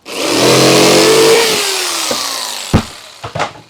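A jigsaw cutting a circle in a board on a solar kiln build, a loud buzzing run for over a second that winds down, followed by a few clunks and knocks.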